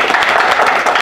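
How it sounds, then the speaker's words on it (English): Audience applause at a school board candidates forum, a steady dense wash of clapping from a roomful of people filling the whole second at even, moderate loudness. "I'd like to give her a round of applause."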